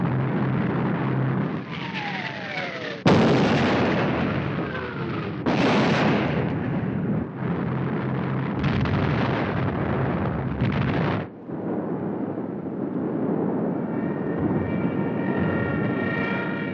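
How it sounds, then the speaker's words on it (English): Heavy bombs exploding during a WWII air raid, a series of loud, sustained booming blasts with rumbling aftermath and a harsh, roaring wash of noise throughout, with no voices. "Bombs"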